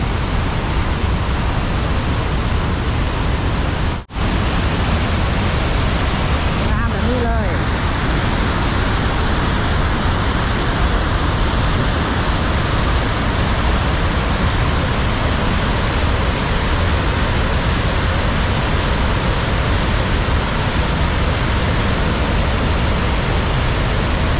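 Large waterfall in southern Laos, a massive cascade on a wide river, roaring as a loud, steady broadband rush that fills the whole stretch without pause.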